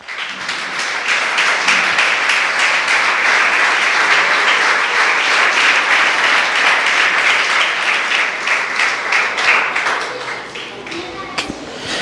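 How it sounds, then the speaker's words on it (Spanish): A congregation at an evangelistic church service gives a loud, sustained round of applause for the Lord, continuous clapping for about twelve seconds with voices rising over it before it tapers off near the end. "Dale un fuerte aplauso al Señor."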